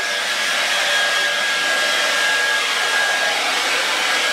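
A hair dryer blows steadily and loudly on hair for the whole stretch, a constant broadband whoosh with no pauses and no voices.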